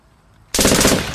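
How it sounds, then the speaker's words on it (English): A gun fired into the air outdoors, with a sudden loud burst of rapid gunfire after a quiet moment, sustained and close. "Since you wanna run around with guns, let one off in the air!"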